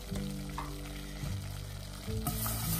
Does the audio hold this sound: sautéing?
yes